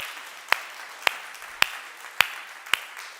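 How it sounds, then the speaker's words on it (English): Applause at a gathering after the Serenity Prayer heard as five sharp, evenly spaced claps about half a second apart over a soft, quiet background. "let's give them a round of applause"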